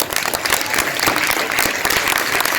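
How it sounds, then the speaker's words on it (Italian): Loud, steady applause from a crowd at a closing event in Jesolo, with dense clapping continuing throughout. "Benissimo, un altro applauso."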